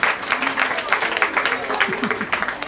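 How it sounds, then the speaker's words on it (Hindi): An audience applauds at a Yoga Day program in Mahalaxmi Nagar, Indore, a lively round of clapping in quick uneven bursts, with voices mixed in underneath. "आइए जोरदार तालियों से शुभ काम स्वागत करें"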